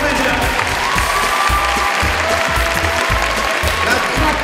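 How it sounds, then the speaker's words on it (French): An audience applauds the actors of the troupe La Farce Enchantée, a sustained wash of many hands clapping with a muffled low thumping beneath it and no pause. "On peut applaudir les comédiens."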